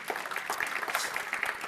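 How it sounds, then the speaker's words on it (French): Conference audience at an international education event applauds with dense, steady clapping from a medium-sized crowd, heard alone without speech. "Merci beaucoup. Un applaudissement."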